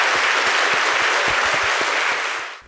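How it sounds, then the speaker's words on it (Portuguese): An audience at a televised talk show applauds: dense, steady clapping from a full crowd that fades out at the end. "A plateia toda aplaude"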